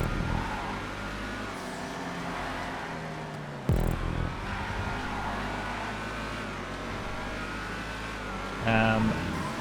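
The Hustler car in GTA 5 races around a fully custom track through a sawmill area, its engine droning steadily and rising and falling in pitch, with a brief sharp impact partway through and a voice speaking over it.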